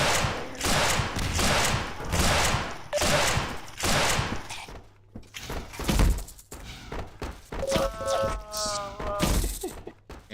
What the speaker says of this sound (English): I use a grenade here.